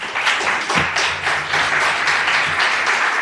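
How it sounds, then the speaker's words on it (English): Steady applause from a large audience at the W7 Summit 2022, dense clapping filling the hall with an even, sustained texture. "you are applauding already"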